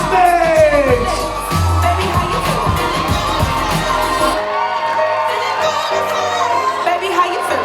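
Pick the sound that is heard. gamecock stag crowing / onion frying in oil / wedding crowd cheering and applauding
wedding crowd cheering and applauding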